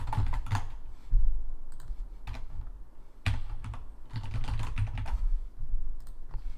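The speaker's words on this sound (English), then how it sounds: "You can just copy what I'm typing here." Irregular clicking of keys on a computer keyboard, bursts of quick taps with short pauses between, close and fairly quiet.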